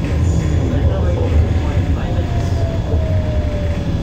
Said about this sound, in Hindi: Sitting in the tram.